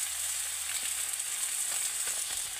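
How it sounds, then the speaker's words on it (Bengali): Mixed vegetables sauté with ginger paste, ground coriander and cumin in a pan for a Bengali mixed-vegetable navaratna curry, giving a steady, close sizzle with faint stirring clicks and no voices. "এবার এটাকে আমি ভালো করে কষিয়ে নেব"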